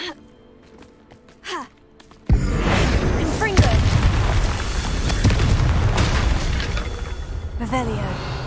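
A Confringo fire spell from Hogwarts Legacy bursts into a loud, sudden blast that keeps roaring and crackling for several seconds, with small whooshes and sharp hits over the din.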